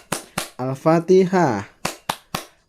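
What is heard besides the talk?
children clapping rhythmically for Al-Fatihah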